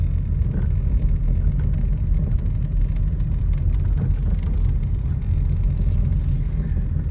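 A freshly washed car rolls slowly along a road so its tyres can dry, producing a steady, close, low engine and tyre rumble that stays even throughout, heard from inside with no talking.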